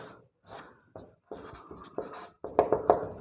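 Chalk or marker scratches on a classroom board in short strokes, a series of dry scraping and tapping bursts with brief pauses between, close and fairly quiet.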